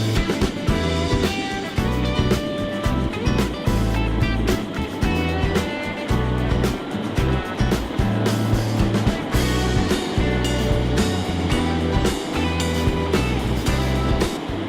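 An old, all-original motorcycle rides along the road, its engine a steady, dense low rumble with a pulsing rhythm that runs loud and continuous throughout.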